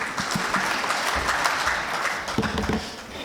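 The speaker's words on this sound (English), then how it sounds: "Please give him a big round of applause." Audience applause fills the hall for a speaker introduced at an Investing in Asia event, a steady dense clatter of clapping running the whole time with a few louder nearby claps toward the end.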